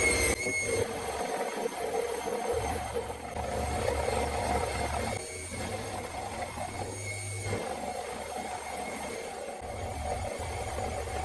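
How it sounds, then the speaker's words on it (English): A slightly blunt roughing cutter on a milling machine cuts metal while making T-nuts for a milling table, giving a continuous harsh grinding whine with steady high ringing tones and low rumbling pulses. "time to get rid of some material off here. See how this roughing cutter goes."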